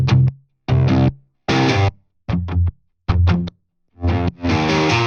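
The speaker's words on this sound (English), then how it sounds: "again, the guitar from the build-up" A distorted, effects-heavy guitar from the build-up of an EDM remix of a track plays as a fill in the drop, in loud choppy stabs and short phrases broken by abrupt silences.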